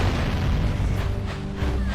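Booming cannon shots from the Jak and Daxter video game, a dense, loud low-end blast and rumble running continuously under in-game music, with no clear separation between individual shots.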